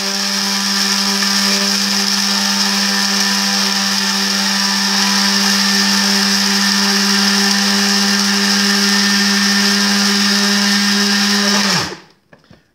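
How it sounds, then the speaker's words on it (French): An electric vegetable cutter chops chicory with a loud, steady, high-pitched motor whine that runs without a break for about twelve seconds, then winds down and stops abruptly. "vous avez mis ça dans votre cutter, dans votre coupe-légumes. Attention au bruit, ça fait beaucoup de bruit"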